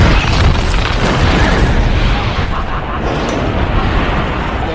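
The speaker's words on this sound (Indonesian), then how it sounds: "Lalu Barbossa meledakkan Interceptor." The ship Interceptor blows up in a Pirates of the Caribbean film, a dense roaring blast that rumbles on continuously and loudly for several seconds.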